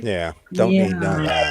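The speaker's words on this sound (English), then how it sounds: "That's a cat." A cat meows at a lively New Year's Eve house party, a couple of clear, close, drawn-out cries that rise and fall; one stands alone at the start and another runs under a person's speech.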